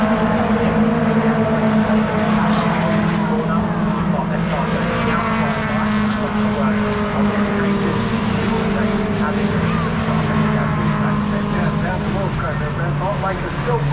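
MG race cars, including an MGF, lapping Brands Hatch through Hill Bend, a sustained loud engine drone with shifting pitch from several cars, heard under continuous race commentary.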